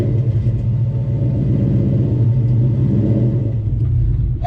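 Foxbody Mustang with a Gen 1 Coyote V8 and TKO 600 transmission idles and rumbles close by, a steady deep loping burble with no talk over it.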